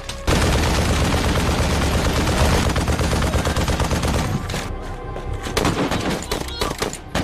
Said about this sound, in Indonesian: Mayor Jasim menyuruh anak buahnya terus menembak